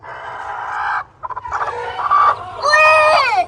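An Aseel hen with newly hatched chicks, clucking and squawking loudly and close by in a few rising bursts, ending in a drawn-out cackle.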